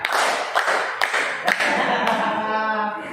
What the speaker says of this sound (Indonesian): Tadi kan instruksinya harus pakai tepuk.